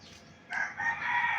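A rooster crows once nearby, a loud, drawn-out call that rises and holds for about a second, heard alone after a brief quiet start.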